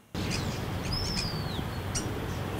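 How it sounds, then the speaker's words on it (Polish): Birdsong in a city park in Silesia, with a few faint, brief chirps and a thin whistled call over a steady low background rumble, with no one speaking. "W Parku Śląskim słychać nie tylko śpiew ptaków."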